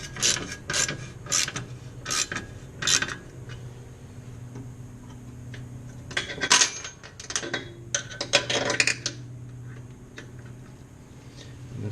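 Bolts are loosened and removed from a Scag Hurricane mower with a ratchet: quick bursts of metallic clicking and ratcheting come in irregular groups, with a clink of loose parts between them and a low background hum.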